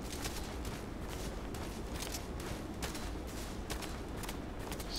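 Rapid rifle fire from the RFB in the shooter Contract Wars, a steady stream of sharp shots crackling at a fairly even rhythm throughout, mid-distance and moderately loud, with no talk.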